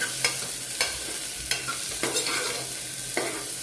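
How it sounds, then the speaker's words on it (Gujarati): Chopped green garlic and asafoetida sauté in a pan, a steady close sizzle punctuated by several distinct spoon scrapes and stirs at irregular intervals. "હવે આપણે અડધી વાટકી લસણ લીધું છે લીલું એડ કરી દઈશું ને સાતરી લઈશું"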